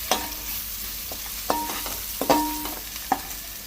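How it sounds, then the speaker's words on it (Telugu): Ginger garlic paste with turmeric fries in a pan, a low sizzle broken by several distinct clanks and scrapes of a spoon stirring against the metal. "ఇంకా అల్లం వెల్లుల్లి పేస్ట్ మంచిగా పచ్చివాసన వెళ్ళేలా ఫ్రై చేసుకోవాలి."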